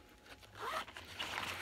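A small zipper with a tassel runs along a makeup bag, giving a short, quiet, close-up rasp that rises and then ends within under two seconds.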